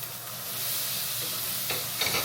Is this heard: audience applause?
no